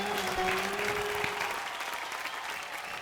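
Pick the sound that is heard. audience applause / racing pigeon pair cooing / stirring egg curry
audience applause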